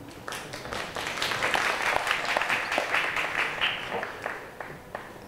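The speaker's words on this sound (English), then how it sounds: "Please applause." Audience applause at an AI conference panel introduction, a steady wash of many hands clapping that swells, holds for several seconds, then thins toward the end, with no talking.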